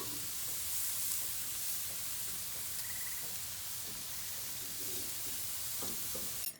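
Jamaican jerk shrimp sizzle on an outdoor grill, a steady, fairly faint crackling hiss with occasional small pops that keeps going and stops right at the end.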